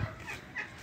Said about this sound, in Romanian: Aici avem cocoșul de la Getuța